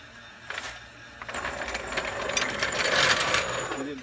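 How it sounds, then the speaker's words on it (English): A metal jack is lowered and pulled out from under the upper control arm of a 2008 Hummer H3, giving close metallic clanks and rattles that build into a rough scraping clatter. "So now we can remove this jack."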